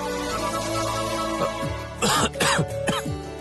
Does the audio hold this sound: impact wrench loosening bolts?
no